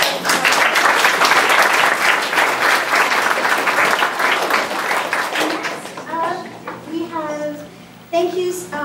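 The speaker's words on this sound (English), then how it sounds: "So round of applause for our photographers." Audience applause at a spring crew awards event, loud dense clapping that fades out into children's voices and chatter.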